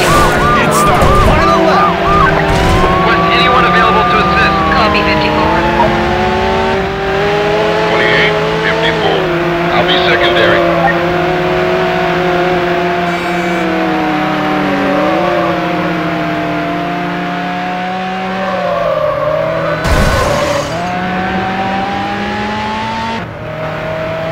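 A red Ferrari 360 Spider races in the video game Need For Speed Hot Pursuit 2, its engine loud and sustained with rising and falling revs, while police sirens wail and a voice talks over it.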